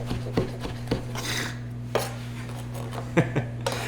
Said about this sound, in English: we're just gonna cut them in nice little lardons like this